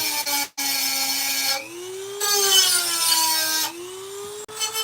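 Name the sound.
grinding down a steel hand chisel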